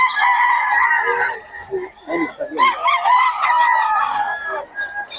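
A bullstag rooster at a gamefowl farm in Bocaue crows in long, loud, drawn-out calls near the microphone, with a short break of clucking in between and faint voices behind.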